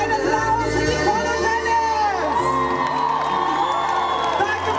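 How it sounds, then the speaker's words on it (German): An outdoor crowd at a summer park concert festival whoops and cheers loudly and continuously, with shouting voices layered over background music throughout. "Ein Applaus für die Paula"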